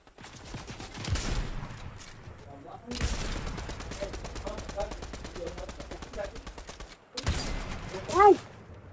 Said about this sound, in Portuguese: Dispara lá no cara. Tô disparando.